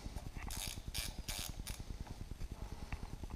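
A ratchet wrench clicks rapidly and steadily while bolts are tightened on a Yamaha YXZ alternator kit, with brief bursts of a brighter rasping sound in the first half and no speech.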